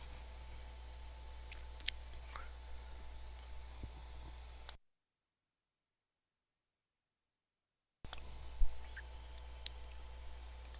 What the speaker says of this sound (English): we got a few people typing